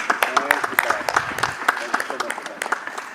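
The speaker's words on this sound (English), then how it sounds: "Let's continue with that applause for Vikas." An audience at a nuts and dry fruits industry event claps in a steady, moderately loud patter of applause while a presenter speaks over it.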